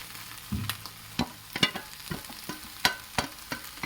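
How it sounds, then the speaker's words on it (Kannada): Cooked drumstick leaves and lentils go into a sizzling pan for a village-style drumstick-leaf dish, with a steady soft frying hiss and a series of sharp spoon clicks and scrapes against the pan. "ಸೊಪ್ಪು ಬೇಳೆ ಏನು ಬೇಯಿಸಿಟ್ಕೊಂಡಿದ್ದೋ ಅದನ್ನು ಇದಕ್ಕೆ ಹಾಕ್ತಾಯಿದ್ದೀನಿ"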